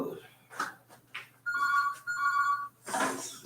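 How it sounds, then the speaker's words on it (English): A telephone rings with an anonymous incoming call, two bright electronic ring bursts of about half a second each, close and clear, between bits of nearby speech and shuffling. "Oh, there's the anonymous phone call."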